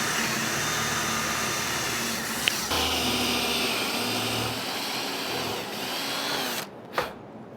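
A power drill bores a hole for a bandsaw bolt, running as a steady whine for several seconds before cutting off, with a brief restart near the end.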